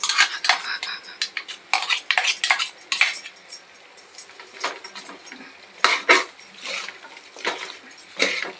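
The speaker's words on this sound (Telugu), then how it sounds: "ఇప్పుడు ఇందులో వేసేద్దాం చికెన్." A metal spoon scrapes and clatters against a pan as chicken goes in for a gongura pulav, sharp repeated clinks and scrapes in an uneven rhythm, close and fairly loud with no voices.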